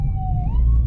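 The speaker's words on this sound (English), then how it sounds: "let this ambulance pass" An ambulance siren wails close and loud on a Kentucky roadside near a community food forest, its tone gliding steadily as it passes.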